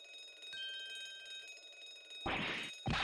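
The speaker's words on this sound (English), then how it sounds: "This would appear to be an alarm bell. All hell would break loose if that thing were to ring." An alarm bell in The Great Ace Attorney Chronicles, mounted aboard a ship, bursts into two loud, harsh ringing spells after a quieter stretch of faint tones, the second burst cutting in right after a brief gap.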